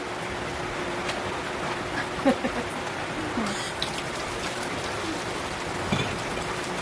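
Steady rain falls without a break, a continuous dense hiss with scattered small drips and taps, moderately loud and even throughout.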